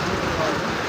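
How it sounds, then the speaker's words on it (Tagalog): Steady rain falls in an outdoor setting, a dense, continuous hiss of drops pattering on surfaces, loud and unbroken through the whole brief moment. "Ay, nakong ulan talaga to, pahamak."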